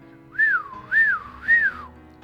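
Three rising-and-falling whistled notes, evenly spaced, clear and close, with no talking.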